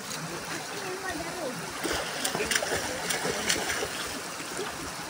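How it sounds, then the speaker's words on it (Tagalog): Water of a stream near rice paddies in Laguna flows and splashes in a continuous, fairly quiet burble, with a few brighter splashes midway and people's voices faintly in the background. "Ayan, agos ng tubig."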